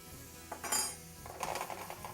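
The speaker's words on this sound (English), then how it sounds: "And we're going to continue to stir." Utensil scraping and clinking against a pan while stirring cooked vegetables with fresh chopped parsley, two short bursts of metallic scrapes at close range, no talking.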